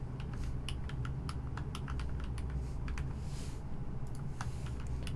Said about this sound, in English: So now I will put in the password.